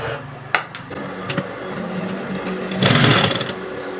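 A sewing machine stitches a long strip of fabric for DIY cargo pants, its fast mechanical whir running steadily across the clip and swelling louder near the end, with a few sharp clicks and knocks early on.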